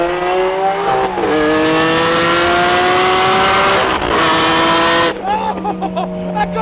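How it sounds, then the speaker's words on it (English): A loud, close Lamborghini V12 engine screams through high revs, pitch sweeping up and dropping between gear changes, with excited voices shouting under it. "God bless Lamborghini and God bless the V12"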